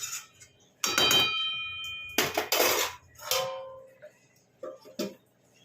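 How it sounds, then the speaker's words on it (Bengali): A metal lid clanks and rattles off a cooking pot of boal fish kaliya, giving a few close, ringing metallic knocks and scrapes in quick bursts, followed by quieter clinks. "ঢাকনা খুলছি"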